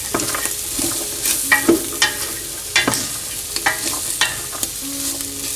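Onions and vegetables frying in a pot over medium heat are stirred with a spoon, producing repeated scraping knocks and clatters over a constant sizzle. No one speaks.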